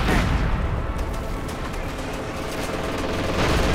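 Light machine gun fire rattles in a war video game, a dense, continuous barrage of rapid shots and distant booms forming a loud, unbroken battlefield wash.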